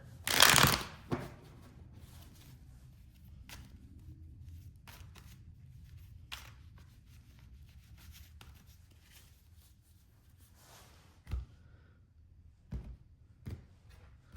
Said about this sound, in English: the tarot we will shuffle just for the good of the cause